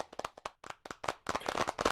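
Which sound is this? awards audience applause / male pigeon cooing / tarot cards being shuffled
awards audience applause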